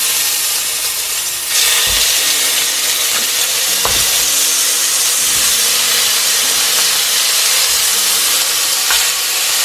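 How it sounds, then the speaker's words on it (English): Curried goat pieces dropped into oil at smoke point sear with a steady, loud hiss and sizzle, broken by a few faint clinks and stirring knocks, with no talk. "so our oil is at smoke point. That's what you want. Gonna drop these curry pieces in"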